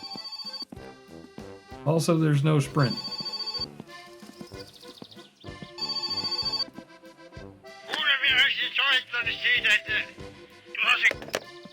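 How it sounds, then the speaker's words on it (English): A telephone ringing inside a video game, sounding in repeated bursts, while someone talks over it. "Oh, hey, the phone's ringing."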